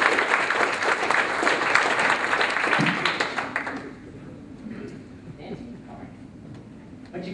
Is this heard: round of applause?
yes